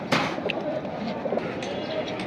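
Red homer pigeons, kept for sale, coo softly in short low murmurs under a noisy, busy background.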